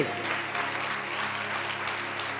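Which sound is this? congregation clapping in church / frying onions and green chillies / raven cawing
congregation clapping in church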